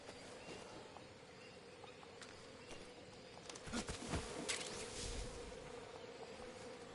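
A swarm of bees buzzes in the stealth action game Metal Gear Delta, a constant hum with a louder rise midway, heard alone.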